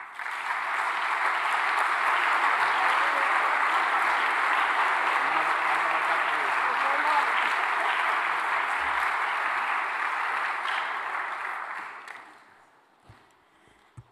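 Sustained, dense applause from a ceremony audience at a music school's academic-year opening event, loud and steady for about twelve seconds before fading out, with no voices over it.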